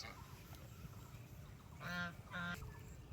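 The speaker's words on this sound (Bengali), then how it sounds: "দেখো রাজহাঁস" A domestic goose gives two short, nasal honks in quick succession, standing out clearly above a low, steady outdoor background.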